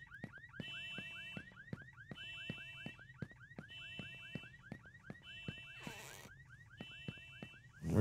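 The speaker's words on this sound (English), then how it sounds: "Where do I turn the alarm off?" An alarm rings in a video game. It gives a steady, repeating electronic chirp-and-beep pattern at moderate loudness, with a brief burst of noise near the end.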